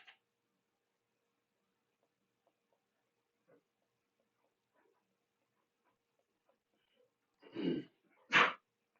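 After a long quiet stretch with faint rustles, a person sneezes twice close to the microphone, two sharp bursts less than a second apart.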